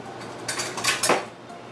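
A butter knife clinks and scrapes against a plate or dish in a kitchen while biscuits are being prepared, giving a few brief, close metallic taps over about a second.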